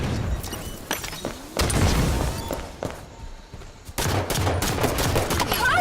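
Rapid bursts of gunfire and booming shots in a team shooter video game match, loud and dense in repeated volleys with brief lulls between them.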